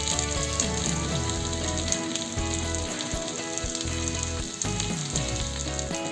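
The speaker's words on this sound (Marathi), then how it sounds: "आणि हे थालीपीठ आपण तव्यावर घालू" Thalipeeth, a mixed-flour flatbread, fries in oil on a tawa with a steady, close sizzle and crackle throughout, with no talking.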